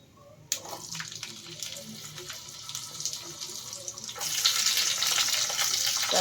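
Potato pieces go into hot oil with a sharp splash, and a sizzle crackles and builds into a loud, steady frying hiss over the last couple of seconds.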